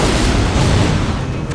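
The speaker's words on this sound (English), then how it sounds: "Greek fire was a deadly weapon that kept Constantinople safe for hundreds of years" Greek fire explodes in Assassin's Creed Revelations: a loud, dense boom that fills the whole moment and rumbles on without a pause.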